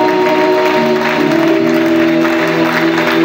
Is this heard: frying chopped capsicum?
no